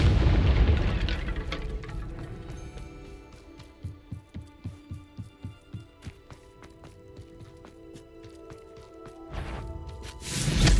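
A Confringo fire-blast spell in Hogwarts Legacy, fired during a fight with an Ashwinder: a loud explosive burst, then a quick run of rhythmic thuds, then another heavy blast swelling at the end, with no talking.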